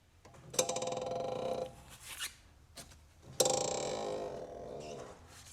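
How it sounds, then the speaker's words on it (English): Two long, harsh creaking groans from a car's suspension with a broken top mount bearing, grinding and rasping with a few knocks between them; close and fairly loud, no voices. "this is the noise of a broken top mount bearing"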